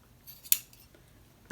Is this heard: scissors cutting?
yes